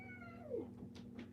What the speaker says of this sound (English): Come on, baby kitty.